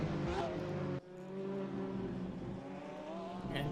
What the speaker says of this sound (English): it's lovely to see the Porsche sliding through corners